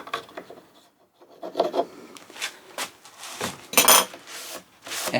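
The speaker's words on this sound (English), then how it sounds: "I'm just going to use the back of my marking knife just to push that glue down in there" The back of a marking knife pushes glue down into a gap in the wood of a cupboard door, making a series of irregular, close scraping and rubbing strokes with short pauses between them, alone without talk.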